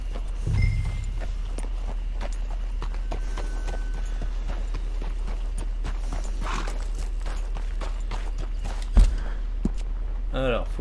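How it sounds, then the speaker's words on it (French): Steady clip-clop of horse hooves walking in the video game Red Dead Redemption 2 Online, continuing for several seconds over a constant low hum, with a voice speaking at times. "Bon bah voilà, j'ai mon cheval."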